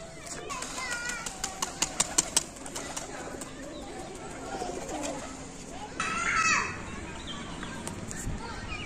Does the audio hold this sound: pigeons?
yes